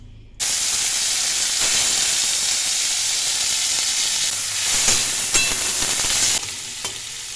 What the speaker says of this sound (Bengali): চিংড়ি মাছটাকে আমি একটু হালকা করে ভেজে নেব